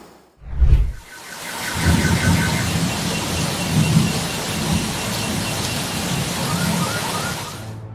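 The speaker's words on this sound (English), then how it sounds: "Don't stand near balconies or railings if you hear thunder nearby." A sharp, close crack of thunder erupts near the start, then a heavy thunderstorm continues with dense, steady rainfall pattering loudly on surfaces.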